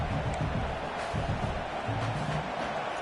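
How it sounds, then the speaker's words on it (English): A stadium crowd roars steadily in a college football video game at LSU, a dense, continuous wash of cheering noise with a faint commentator's voice underneath. "The roar of the crowd trying to fuel this defense to keep them pinned in their own end."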